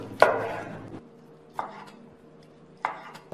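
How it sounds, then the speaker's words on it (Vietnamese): A knife slices through boiled pork tongue on a cutting board in three separate sharp chops, spaced over a few seconds, close and crisp with quiet between strokes. "Cái lưỡi này thì anh chị chẻ ra làm đôi nè."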